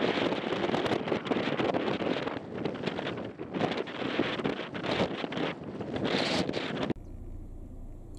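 Strong Patagonian wind buffets the microphone in loud, continuous gusts with roaring rumble, then drops abruptly to a quieter, steadier blow near the end.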